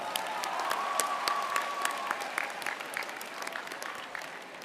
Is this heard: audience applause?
yes